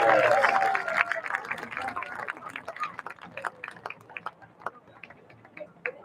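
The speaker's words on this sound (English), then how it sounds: "Let's give one big round of applause for our boys cross-country seniors." A crowd in the stands at a high school football game applauds the boys cross-country seniors, a scattered patter of claps that starts fuller and thins toward the end, with a brief voice near the start.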